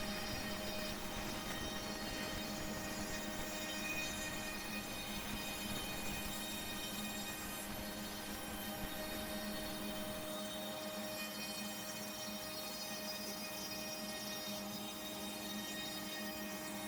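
A CNC router with a vacuum attachment cuts a pocket in foam for an Apache case, giving a steady droning hum with a constant whine, unbroken and fairly even throughout.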